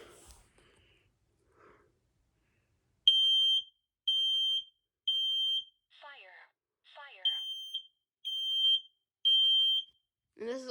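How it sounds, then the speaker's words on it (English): A P3010B smoke alarm, an older model that announces fire twice, sounds during a test: seven loud, close, evenly spaced high beeps, interrupted by two short stretches of a spoken voice alarm. "Now, this one is a P3010B, and I obviously will be testing this."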